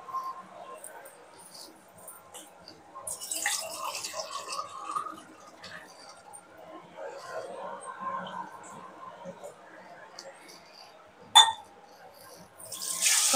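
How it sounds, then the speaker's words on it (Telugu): Water poured into a pan of fried semolina while cooking upma, heard as a few faint splashing pours and hissing bursts with quiet gaps between them. "ఇప్పుడు గ్లాసు రవ్వకి 3 గ్లాసులు నీళ్లు పోస్తాను."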